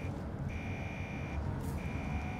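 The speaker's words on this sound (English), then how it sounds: "GTFO, nothing here, just an alarm going on." Alarm going off in the Alien Isolation video game: a steady electronic buzzing tone pulsing on and off in long beeps over a dense, rumbling mechanical background, with no speech.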